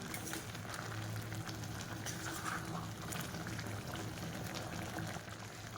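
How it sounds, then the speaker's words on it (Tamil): Cooked lentils (dal) poured into a pot and stirred, a steady wet bubbling, sloshing churn that holds close and fairly loud the whole time. "இப்போ இதில் பருப்பை வந்து ஊற்றிடலாம் பருப்பு ஊற்றி ஒரு கிளறி விட்டுக்கலாம்"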